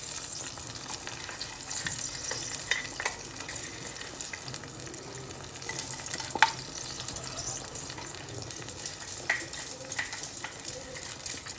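Spice powder being stirred into a simmering tamarind mixture in a pan for kovil pulikachal, with a soft steady bubbling sizzle and occasional scrapes and clinks of a spoon, fairly quiet and alone.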